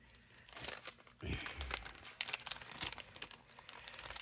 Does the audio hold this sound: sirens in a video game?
no